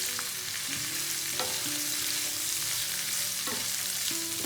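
Onions frying in a pan for a caramelized onion chicken curry, with a constant close sizzle and occasional faint stirring scrapes and clicks, no voices.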